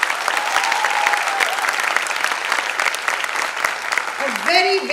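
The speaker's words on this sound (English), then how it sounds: "Huge round of applause for us" Audience applause at a Republic Day event, a dense, steady wash of many hands clapping throughout, with cheering and whoops rising near the end under a loud, reverberant hall sound.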